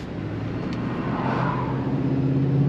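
Truck engine and exhaust fitted with a Banks part accelerating, a deep, throaty, rising roar heard from inside or close by, steady and building over a few seconds with no talking.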